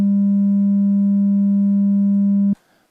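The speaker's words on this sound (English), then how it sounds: "these sine waves do have overtones" A steady, loud sine tone from a Bitwig FM-4 synthesizer with faint overtones holds unwavering for about two and a half seconds, then cuts off abruptly into a brief soft tail.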